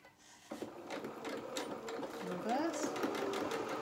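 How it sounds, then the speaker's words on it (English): A sewing machine runs steadily while stitching a seam on a small doll shirt, its fast mechanical whir close and continuous after a brief quiet start, with faint soft tones over it. "we're going to sew our seam here."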